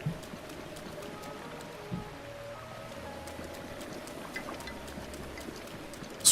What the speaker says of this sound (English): Rain like this is no problem at all